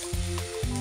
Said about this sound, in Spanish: Una vez que ya sientan que el sartén está suficientemente caliente, echan las albóndigas